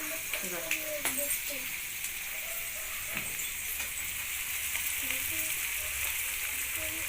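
Egg bhurji frying in a pan with coriander added gives a steady, fairly loud sizzle throughout, with faint scraping and stirring clinks and a voice talking quietly underneath.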